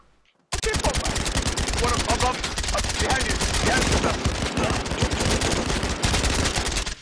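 Dense rapid gunfire from a video game erupts after a brief quiet start and keeps rattling nonstop, loud and close, with voices shouting beneath it.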